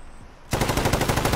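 Rapid automatic gunfire in the video game Warzone, a loud sustained burst of rhythmic shots starting abruptly after a brief quiet moment.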